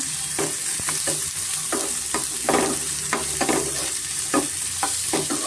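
Chicken mixed with salt and turmeric fries steadily in a pan over a medium flame, a continuous close sizzle broken by repeated sharp scrapes and clicks of a spoon stirring at an uneven rhythm, with no talking.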